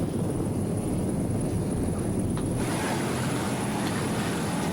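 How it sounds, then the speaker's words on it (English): A steady, loud powerboat engine roar with heavy wind rumble from a 26-foot deep-V Century offshore race boat, holding constant throughout as the powerful motor runs close by during the 1988 St Pete Offshore Grand Prix. "Just listen to what this boat does."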